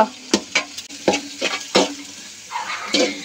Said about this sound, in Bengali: এভাবে ঘুরে ঘুরে ভালো করে যে আমি নেড়ে চেড়ে নিচ্ছি